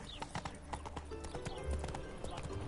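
Roach the horse trots along in a video game, hooves clip-clopping in a quick, even rhythm close by, with a low rumble underneath in the later part.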